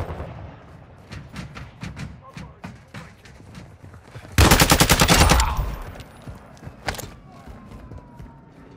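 Gunfire in the video game Call of Duty DMZ: scattered single shots, then a loud sustained automatic burst lasting about a second, followed by a few more sharp shots, with speech in the background.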